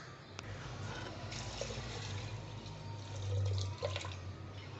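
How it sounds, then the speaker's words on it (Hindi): Water poured steadily into a pot of beef paya, a continuous, close splashing and gurgling stream that holds at an even level throughout with no voices. "इसमें पानी ऐड कर रही हूँ,"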